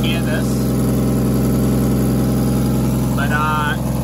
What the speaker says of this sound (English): I think I've got a bit of an exhaust leak